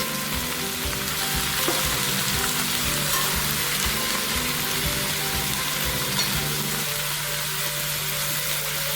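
Spicy chili chutney ingredients, including tomato, sauté in a pan with a loud, steady, close sizzle that hisses without pause, and no talk over it.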